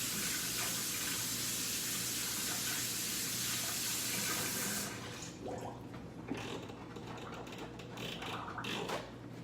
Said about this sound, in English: So let me go wash my hands.